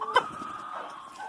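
A Rhode Island Red hen gives a short, soft cluck followed by a brief drawn-out murmur, faint and close, with no talking.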